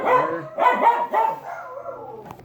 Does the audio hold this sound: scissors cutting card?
no